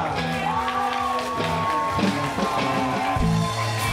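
A crowd at the Trójbój Kaszubski 2023 festival cheers and whoops for Piotrek, a steady roar of voices with shouts rising over music-like tones, loud and continuous for the whole stretch.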